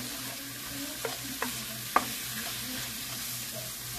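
Tortellini and sausage cooking down in a pot, a soft steady simmer and sizzle with a few faint stirring clicks and taps against the pot, continuous and moderately quiet.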